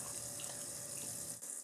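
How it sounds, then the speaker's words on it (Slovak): Water runs steadily through a small funnel and hose into the cooling system of a Stirling-engine bicycle, a close, continuous trickling hiss lasting under two seconds. "A môžem použiť malý lievik a hadičku na naplnenie systému vodou."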